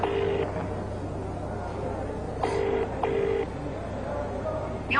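A telephone dialing a call, short electronic tone beeps in a few separate bursts over a low steady hum, clear and fairly close.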